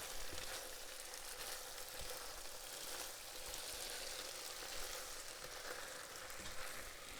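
Olive oil sizzles steadily in a pot as food is stirred through it, a dense, even frying hiss with faint scraping, close and continuous with no voices.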